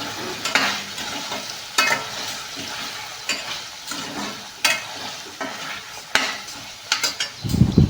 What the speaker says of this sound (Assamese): এতিয়া গোটেইখিনি ধুনীয়াকৈ লৰাই দিছোঁ